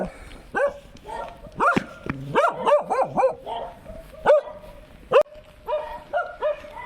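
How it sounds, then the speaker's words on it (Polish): Several dogs bark and yip in repeated sharp bursts, loud and close, with a few higher whimpering calls mixed in between barks and no clear speech. "Ale narobiły rumoru te psy, hałasu."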